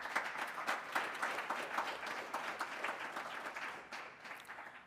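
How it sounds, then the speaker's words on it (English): A public panel audience in Toronto claps for the consulting team. The applause is brisk and sustained, with sharp individual claps that gradually thin toward the end, and no voices. "So a big round of applause for them."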